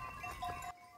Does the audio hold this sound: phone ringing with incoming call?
no